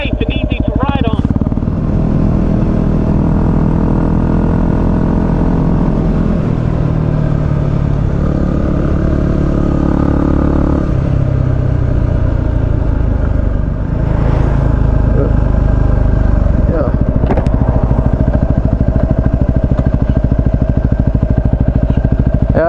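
Yamaha WR250R and Kawasaki KLR650 motorcycles ride on tarmac, their engines droning loud and steady with shifts in pitch as they accelerate, along with wind rush; speech is faintly present.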